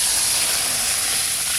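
Water hits a hot pan of fried potatoes and bursts into a loud, dense hiss of steam and sizzle that stays steady and close from start to finish, with no one talking.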